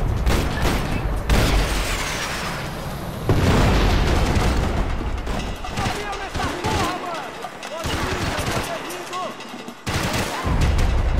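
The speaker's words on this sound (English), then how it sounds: "Rocket launcher." Heavy booms and explosions mixed with rapid gunfire in a Max Payne 3 firefight, loud bursts recurring throughout, with a voice speaking over parts of it.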